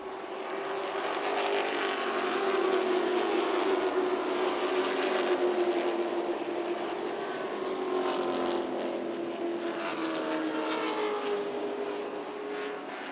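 Stock cars race on the track at Talladega, a loud, steady roar of several engines held at high revs, rising and falling slightly as the pack sweeps through a turn, with no break in the noise.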